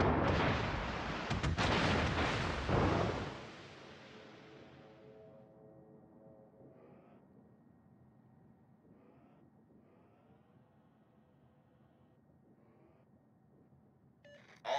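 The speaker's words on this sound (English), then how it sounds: "All stations requesting fire on the designated target." Naval artillery fire in the video game World of Warships, aboard the destroyer Benham: a loud, booming salvo with a rolling roar for about three seconds, then a long fading tail, with quiet tonal interface beeps and a sharp hit at the very end.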